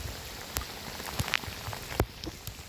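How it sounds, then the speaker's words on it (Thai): Rain patters steadily on a surface, with scattered louder drops landing close by over a soft, continuous hiss. "ฝนตกแล้ว พี่น้องเอ้ย"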